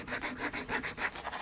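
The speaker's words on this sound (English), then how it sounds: "time to start filing this thing. So it just files off like metal." A hand file rasps across a metal Matchbox toy truck under restoration, with quick, even back-and-forth strokes about five per second, close and fairly loud, with no voices.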